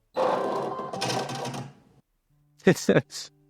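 Computerized sewing machine powering up with a burst of whirring and clattering mechanical noise, a pause, then a few short electronic beeps and clicks.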